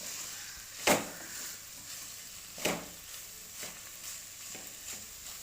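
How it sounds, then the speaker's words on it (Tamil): Goat lung being sautéed with ginger paste and onions in a pan, a soft steady sizzle with a few sharp scraping stirs of a spoon, close and fairly quiet, with no talking. "இது வதக்கி எடுக்க போகிறாங்க."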